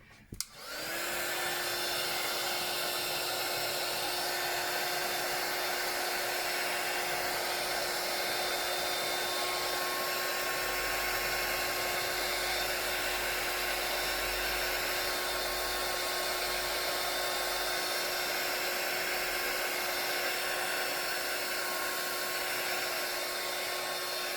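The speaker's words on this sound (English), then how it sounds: "take my heat gun again" A heat gun blows hot air while distressing a printer's tray, giving a loud, steady whooshing roar with a high whine that switches on abruptly and holds constant, close and alone.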